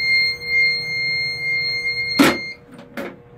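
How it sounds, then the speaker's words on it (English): A fire alarm panel emits a steady, high-pitched electronic tone that holds throughout, interrupted near the end by two short bursts of broadband noise nearby. "We're not gonna turn off the fire alarm or nothing,"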